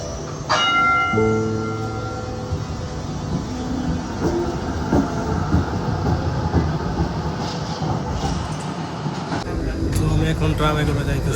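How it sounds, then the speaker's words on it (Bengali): A Melbourne tram runs with a rumbling hum and rhythmic rail clatter heard from inside the car, with a bright chime near the start and another near the end, and talk from people onboard. "এখন ট্রামে করে যাইতেছি"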